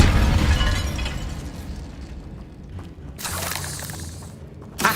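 The Incendio fire spell in Hogwarts Legacy goes off with a burst of crackling, whooshing flame and a low rumbling boom that fades, followed by a brighter sizzling flare near the end.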